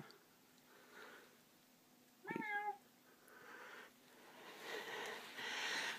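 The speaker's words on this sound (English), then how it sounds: "That's Parsnip, our studio cat" A cat in a small recording studio lets out a single short, clear meow, fairly close, amid quiet room noise and faint sniffing or rustling.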